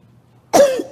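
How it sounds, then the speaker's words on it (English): A single sharp cough bursts out after a moment of near silence, close and fairly loud, trailing off with a brief raspy tail. "No, my cough is okay."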